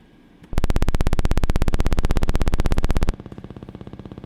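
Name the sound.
FM synthesizer tone, two saw waves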